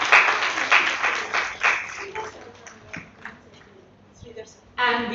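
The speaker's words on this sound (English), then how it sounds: "Please join me to welcome them with a big round of applause." Applause from a conference audience at a national mental health event, fairly close and loud at first, thinning to scattered claps before a fresh burst near the end.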